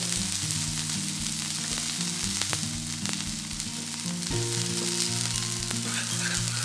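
A thick sponge dosa sizzles and fries steadily on a hot pan after being flipped, a continuous close crackle with no talking.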